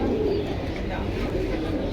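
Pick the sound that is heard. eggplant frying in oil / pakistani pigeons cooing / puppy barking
pakistani pigeons cooing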